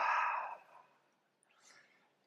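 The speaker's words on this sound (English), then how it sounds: "Softly exhale all air out." A soft, slow breath exhaled during a beginner yoga session, one long airy outbreath fading away, followed by a fainter second breath in a quiet room.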